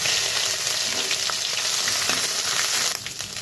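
Bay leaf and chopped ginger crackle and sizzle steadily in hot oil for moong dal, a dense continuous frying hiss with scattered pops, close and fairly loud throughout, no voices.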